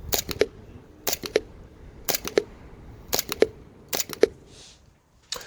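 An EMG SAI Silver gas airsoft pistol fires in close, sharp pairs of snappy cracks, five double shots spaced about a second apart followed by one more, loud against a quiet outdoor background.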